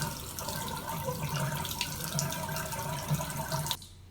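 Water runs steadily from a lever-operated tap into a sink in Nova Scotia, a close, continuous splashing rush that cuts off abruptly as the flow stops.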